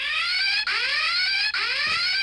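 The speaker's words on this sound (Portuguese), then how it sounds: "Sempre sonhei com esse alarme." A car alarm sounds in repeated rising electronic sweeps, each cycle lasting under a second and restarting sharply, loud and close with nothing else heard.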